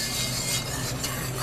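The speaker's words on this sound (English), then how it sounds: "I still got to whisk." A whisk scrapes steadily through homemade brown gravy mix in a pan just off the heat, giving a continuous loud, close, gritty stirring rasp with no pauses and no talking.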